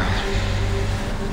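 A car being parked in the video game Far Cry 3 gives off a brief, loud, steady engine hum with a low drone throughout.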